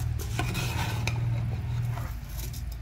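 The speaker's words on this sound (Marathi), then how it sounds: "आता हे थोडं हलवून घ्यायचं, चांगलं मिक्स करायचं।" Rice being stirred in a pot for vegetable pulao: a continuous scraping, rustling stir with light spoon knocks against the pot over a low steady hum.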